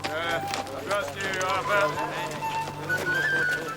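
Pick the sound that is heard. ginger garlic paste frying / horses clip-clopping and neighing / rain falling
horses clip-clopping and neighing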